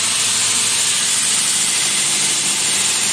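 A belt grinder's electric motor spins the belt at steady speed, producing a continuous loud whirring hiss with the abrasive belt's rushing noise and no voices.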